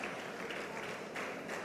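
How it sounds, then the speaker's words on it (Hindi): Audience applause fills a hall at an event in Bhilwara, a steady, soft wash of many hands clapping at a distance with no voices over it. "चाहूँगी कि ज़ोरदार तालियों के साथ आप अपनी मौजूदगी भी दर्ज कराएं"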